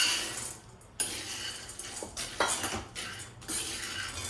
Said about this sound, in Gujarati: હવે સિંગદાણા શેકાય છે